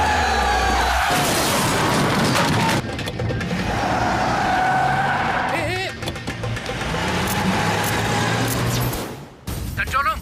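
In a film scene, a car roars off after running a traffic signal and causing an accident, with loud engine surges and crash-like bursts under tense dialogue.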